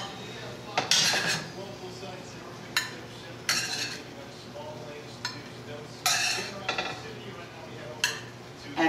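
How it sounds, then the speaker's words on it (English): Cooked pork chops are set onto a serving platter in a kitchen, producing a handful of sharp clinks and clatters of tableware spaced irregularly over quiet room tone. "Just take them and place them on a serving platter."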